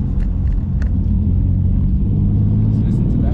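Car driven in sport plus mode in traffic, a steady low engine rumble from inside the cabin with no clear rev rise, while people talk over it.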